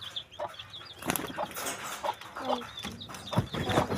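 Pigeons at a backyard loft make soft clucking, fowl-like calls amid scattered wing flaps and rustling, fairly close, with a bit of background noise throughout.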